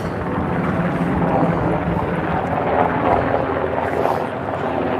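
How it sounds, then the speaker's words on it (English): A helicopter drones steadily overhead above the side streets of Harajuku, Tokyo, a loud continuous rotor roar with wind buffeting, filling the whole clip without any talking. "we have another helicopter above"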